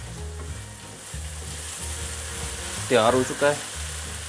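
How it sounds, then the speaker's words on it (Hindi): Kofta curry masala frying in a pan, a steady close sizzle beneath a low hum, with a person speaking briefly near the end. "मसाला हमारा हो चुका है फ्राई"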